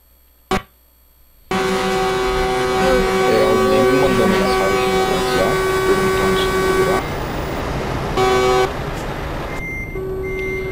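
Truck horns blasting in a Euro Truck Simulator 2 multiplayer convoy, a loud sustained honking chorus of several horns that starts abruptly after a brief click and holds for several seconds, with shorter overlapping toots near the end.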